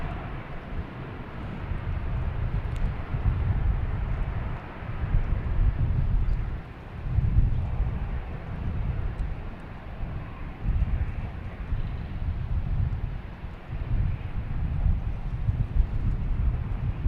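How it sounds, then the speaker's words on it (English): A JetBlue Airbus A220 takes off from Boston Logan, a low rumbling jet roar that swells and fades unevenly through buffeting wind noise on the microphone, heard from a distance with no talking. "Next taking off is a JetBlue heading to Reagan in A220"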